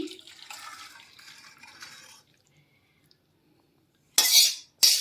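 Rui fish and potato curry broth pours in a splashing stream for about two seconds, then stops; after a pause come two brief, louder splashy bursts.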